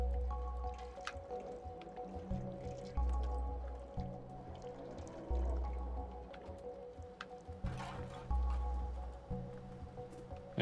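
A cat lapping water in the video game Stray: soft, wet, squishy laps repeating in an uneven rhythm, close and quiet, alongside low background tones.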